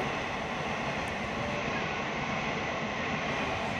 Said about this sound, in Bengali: যে ট্রেন যাচ্ছে দেখো, দেখতেই পাচ্ছ।